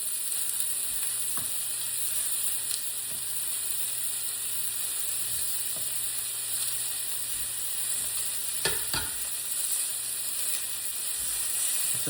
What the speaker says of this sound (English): I got a frying pan, and I'm going to put pieces of beef